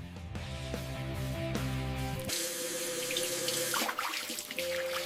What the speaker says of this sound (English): To splash water on your face.